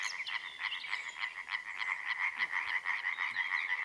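Dense chorus of tree frogs croaking at night from a pond surface in a nature reserve, a steady, continuous pulsing rhythm of many overlapping calls at moderate distance, with no talking.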